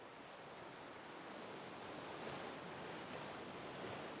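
Sea waves wash onto the shore in a steady, broad rush of surf. The sound is soft and continuous, with no distinct breaks and no voices.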